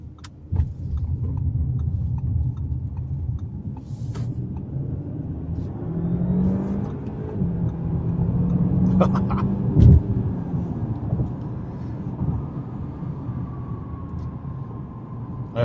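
An Audi A6 Prestige accelerates away from a green light with a smooth engine rumble and rising whir heard from inside the cabin. Small clicks and rattles sit over the drone.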